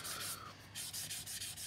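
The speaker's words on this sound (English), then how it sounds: "just another rub down with this sanding sponge, a very fine sanding sponge," Close, steady rubbing of a very fine sanding sponge on a Tamiya 1/32 Mosquito scale model, in rhythmic back-and-forth strokes, soft and hissy, with no talking.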